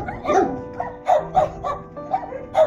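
Several dogs at a big shelter housing thousands of dogs bark and yip repeatedly, overlapping short loud barks in an uneven rhythm, close by.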